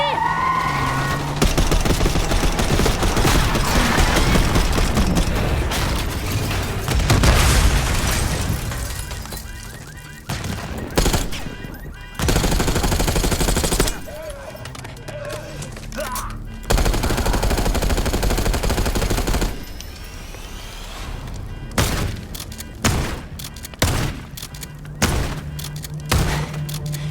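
Call of Duty Black Ops 6 game audio: dense, sustained automatic gunfire and explosions for most of the stretch, later breaking into separate bursts and impacts.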